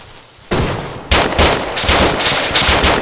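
A close, loud burst of gunfire in an Arma co-op mission breaks sudden silence, followed by several rapid volleys of sharp automatic shots with no talk.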